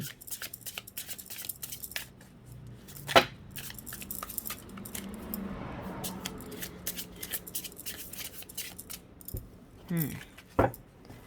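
Tarot cards from The Sorcerers Tarot deck are shuffled by hand, giving soft riffling flutters and papery slides, with a couple of sharper snaps near the start and end, close and fairly quiet.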